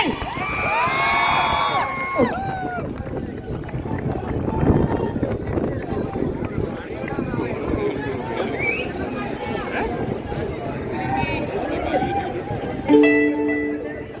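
A large outdoor crowd in Kollam, gathered to see actor Chiyaan Vikram, cheers and shouts continuously at close range, with voices talking throughout and a brief louder burst near the end.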